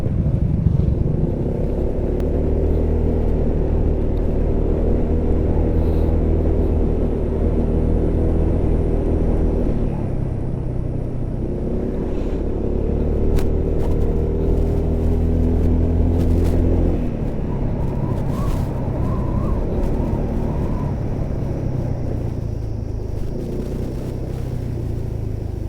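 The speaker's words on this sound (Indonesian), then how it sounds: "Ini banyak juga nih kendaraan lewat sini nih teman-teman." Vehicles pass along a winding mountain road to Dieng via Batur, engines rumbling loud and close in long continuous swells that rise and fade as each goes by.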